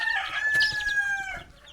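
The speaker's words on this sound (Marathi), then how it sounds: "ही या तीन कोंबड्या ज्या आहेत या अंड्यांवर बसल्या आहेत" Hens sitting on eggs in a coop cluck and call close by, a loud drawn-out cackle with sharp bursts, heard alone without talk.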